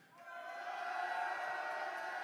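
A London crowd at the European digital launch event for Mists of Pandaria cheers and applauds, swelling quickly into a sustained, fairly distant roar of voices and clapping.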